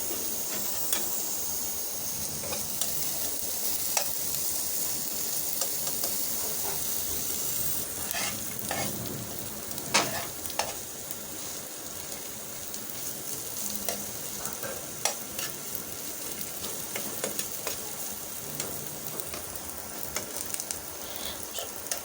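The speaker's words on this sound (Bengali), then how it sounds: "এখন আমি এর মধ্যে দিয়ে দিচ্ছি পেঁয়াজ চার পাঁচ টুকরো রসুন শুকনো মরিচ এগুলো একটু ভেজে নেব" Onion, four or five garlic pieces and dried red chili frying in a pan for a bitter gourd mash, a steady close sizzle broken by intermittent scraping stirs, with no voices.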